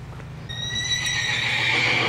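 A horse neighs loudly inside its stall, a long whinny rising and holding over a steady low hum, with faint hoof or stable knocks beneath.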